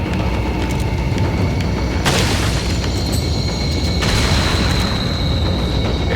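Dynamite blasts in Resident Evil 4, two loud booming bursts about two seconds apart over constant dense game noise, no voices.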